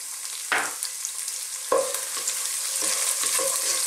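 Onion sautéing in a pan for Filipino green beans with pork, a steady sizzle and frying hiss throughout, with a couple of louder stirring scrapes and clatters against the pan.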